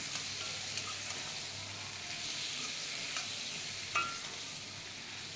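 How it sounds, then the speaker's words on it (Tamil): Fried boneless chicken with capsicum being stirred in a hot pan with soy sauce and other sauces: steady, soft sizzling throughout with occasional light scrapes and clinks of a utensil, and no talking. "இதெல்லாம் ஊற்றி கலரின உடனே இந்த பொரிச்சு வச்ச சிக்கனை அதில் போட்டு"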